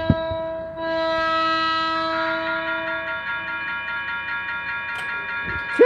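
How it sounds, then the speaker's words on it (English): A train approaching at night in Mountain View sounds a long, loud, sustained horn chord, with bell-like ringing tones joining partway through and continuing to the end. "another train from that direction is coming this way."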